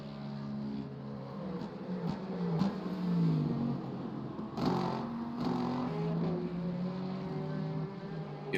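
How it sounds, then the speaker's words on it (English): Two V8-powered GT3 race cars at Silverstone, a Corvette leading a Lexus, drone past with a steady engine tone and shifting pitch at moderate distance, the sound swelling briefly around the middle. "You can hear the Corvette of Harrison just in front of the Lexus. Both with V8 powered engines."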